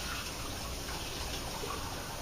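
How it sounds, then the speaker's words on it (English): Water running steadily from a kitchen tap while hands are rinsed under it, a constant close gushing stream with no pauses. "let me just rinse my hands here quickly"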